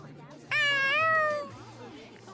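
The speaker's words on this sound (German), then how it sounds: "Let's try to find the missing cats." A cat meows once, loud and close, in the Tales of Xillia 2 video game, a single drawn-out cry of about a second over quiet background.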